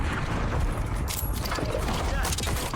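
Impact grenade blasts in Warzone: dense, continuous crackling explosions and gunfire roar filling the whole stretch, loud and close, with a voice talking over the chaos.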